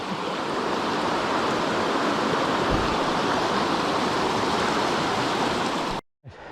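Steady rushing of Hazel Creek flowing nearby in the Great Smoky Mountains backcountry, a loud continuous wash that cuts off abruptly near the end.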